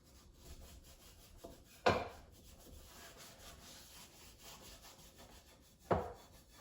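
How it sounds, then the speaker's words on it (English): Scrub brush worked over dirty dishes during washing up, a steady bristly rubbing broken by two sharp louder knocks or scrapes, no talking. "So now I take my scrub brush and I scrub what I can off."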